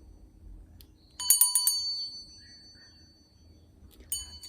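Flicked scrap silver gives a bright, high-pitched ring: a quick cluster of sharp pings that hum and fade over about a second, then another short ping near the end, close and clear.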